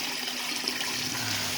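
Water swishes and runs steadily as a koi is rinsed in a container during a potassium permanganate disease treatment. The rushing wash is continuous and fairly quiet, and no voices are heard.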